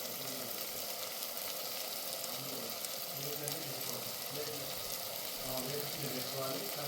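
Mutton biryani masala with a cashew, almond and coconut paste fries and is stirred in a pot, making a soft, continuous sizzle with light scraping throughout.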